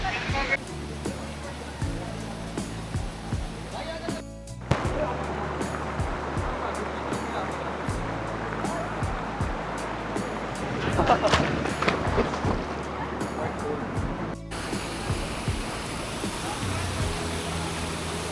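A steady, loud broadband roar of rushing water from a waterfall near Bir Billing in the Himalayas, heard up close and continuous throughout, with brief shifts in texture and indistinct voices faintly underneath.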